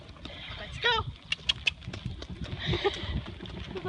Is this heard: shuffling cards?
no